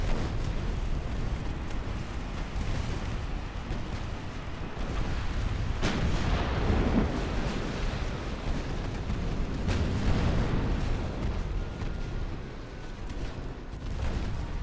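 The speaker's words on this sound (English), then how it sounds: "That thing fired more torpedoes." Naval battle in Ultimate Admiral: Dreadnoughts with 1890s warships: a dense, continuous wash of booming gunfire and explosions, with heavier blasts around six and ten seconds, and no speech over it.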